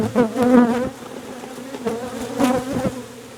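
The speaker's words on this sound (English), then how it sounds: "Fly, field bees fly." Field bees from a defensive hive buzzing loudly close by in fall, a dense swarm hum with wavering pitch as individual bees pass near, no voices.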